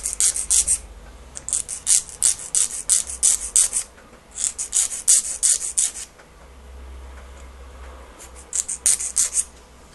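File rasping across a capsule in repeated quick back-and-forth strokes, bright close scraping in rhythmic bursts separated by short pauses, with no talking.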